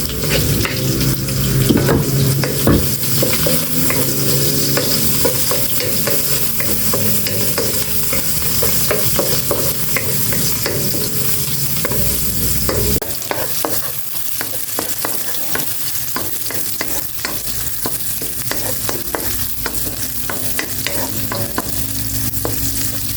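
Garlic and onions sautéing in a pan, a steady loud sizzle and crackle, close up, with frequent scraping stirs of a utensil that grow busier partway through, and no talking.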